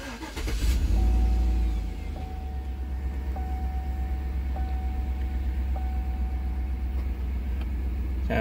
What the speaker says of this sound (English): All you have to do is click to start.